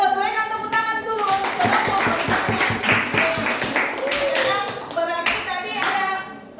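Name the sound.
applause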